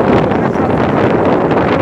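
Strong wind during a sandstorm roars and buffets against the microphone in a loud, continuous rush with no letup. No voices come through over it.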